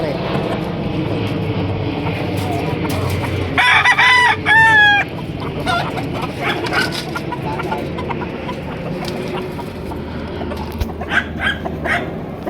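Gamecocks kept for fighting crow loudly at close range with several drawn-out calls, among clucking, barking dogs and someone talking, outdoors in Kawit, Cavite.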